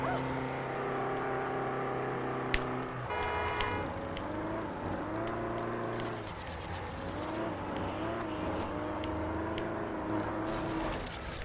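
Car engine in the LEGO City Undercover video game, a steady droning hum with shifting pitch as the vehicle drives and revs, a brief sharp knock early on and a gear-like change near three seconds, continuous and fairly loud throughout.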